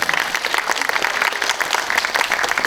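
A movie audience at a post-screening talk for the film Land of Happiness claps for actor Song Joong-ki, a brief burst of dense, steady applause with no voices.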